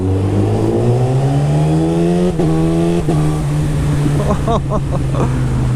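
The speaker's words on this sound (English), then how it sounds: "First ride with this new setup, namely this crazy exhaust. It just sounds mental." A loud motorcycle with a full decat exhaust and quickshifter revs hard with a raw, throaty exhaust, pitch climbing and dropping through gear changes, close and continuous.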